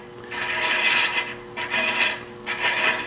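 A thread chasing tool scrapes a threaded groove into wood spinning on a lathe while making a castle box, giving three rasping bursts of cutting, each about a second long, with brief quieter gaps between them.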